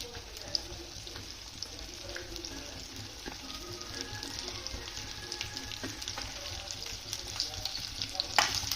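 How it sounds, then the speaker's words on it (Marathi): Sliced okra fries in well-heated oil for homestyle masala bhindi, giving a steady, close sizzle and crackle that runs unbroken throughout. "तेल आपलं चांगलं तापलेलं आहे त्यात आपल्याला भेंडी फ्राय करून घ्यायची आहे"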